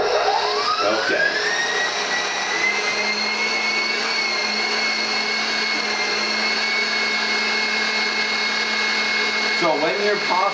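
An electric pasta machine runs continuously while kneading pasta dough, a loud steady motorized whine and hum with a rising pitch at the start, close by and unbroken.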